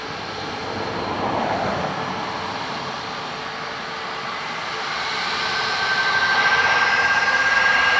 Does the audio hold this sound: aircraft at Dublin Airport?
yes